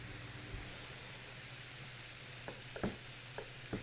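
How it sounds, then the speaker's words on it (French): Onions and ginger sizzling in a pan, a soft continuous hiss with a low steady hum beneath, joined toward the end by a few light clinks of stirring. "on a nos oignons qui vont commencer à dorer aussi et le gingembre qui va prendre tout son goût"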